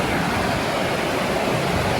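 Wei Nia waterfall in Meghalaya rushing between rocks, a steady dense roar of falling water with no breaks, loud and close throughout.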